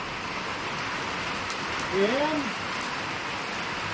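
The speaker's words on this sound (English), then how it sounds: "I hope you can hear me over the rain because it's coming down right now" Heavy rain pours down steadily at a camping platform, a dense, even hiss that fills the whole stretch, with a brief faint tonal sound rising over it midway.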